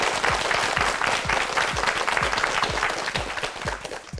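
A studio audience on a Korean word-quiz game show claps steadily, a dense, even burst of applause that holds for a few seconds and tapers slightly toward the end.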